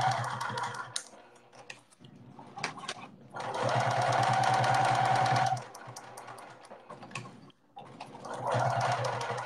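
A sewing machine stitches quilting lines on a fabric can cooler in bursts of rapid, even needle chatter, with short pauses and handling noise between runs, close and fairly loud.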